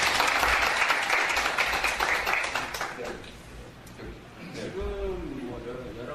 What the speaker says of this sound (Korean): 우리 여러분 박수 한번 쳐주시죠.